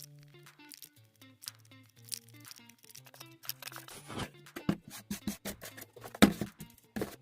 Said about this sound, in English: Start tearing up all the largest pieces into the rough size you'd like.